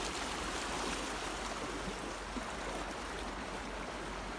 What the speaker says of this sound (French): Donc vous voyez, là il y a la rivière